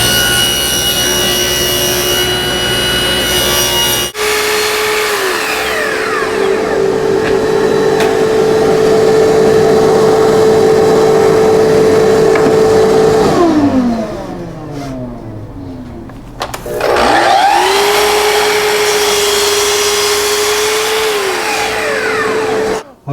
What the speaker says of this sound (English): I'm going to dimension them on the table saw as far as the width goes, and then I'll cut them to final length over on my miter saw